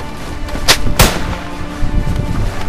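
Gunshots ring out sharply, two loud close cracks in quick succession followed by rumbling echoes and softer rattling afterward.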